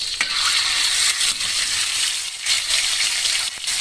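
Ground shallots and garlic scraped and stirred in a cooking pot, a loud close hissing sizzle broken by spoon knocks.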